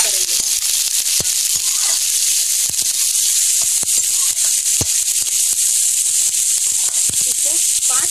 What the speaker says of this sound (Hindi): इसको 5 मिनट तक गैस पे फ्राई होने के लिए छोड़ देंगे।